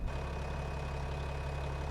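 A tractor engine idling in Farming Simulator 25, a steady low, throbbing rumble held evenly and close with no voices.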